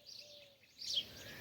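Small birds chirping at dawn in a mountain setting, a few thin high calls and a brief burst of twittering against a quiet outdoor background.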